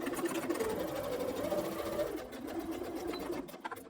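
A sewing machine stitches the lining of an elastic-waist milkmaid dress at a 1 cm seam allowance, a close, continuous mechanical whir that runs steadily before easing off near the end.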